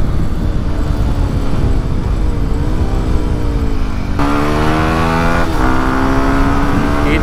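A stock Yamaha WR155R motorcycle engine revs hard and loud, climbing in pitch through the gears toward top speed, with a clear gear shift midway and a rising whine afterward.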